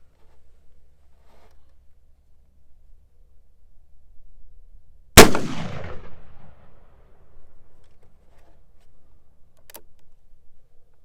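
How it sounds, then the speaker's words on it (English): A snub nose Colt Walker percussion revolver fires once over a chronograph, a sharp, loud crack with a short ringing tail against a quiet background. "So now let's go ahead and fire it over the chronograph, see what sort of velocity I'm getting here."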